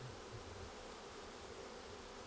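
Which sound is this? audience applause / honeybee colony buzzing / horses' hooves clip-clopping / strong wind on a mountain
honeybee colony buzzing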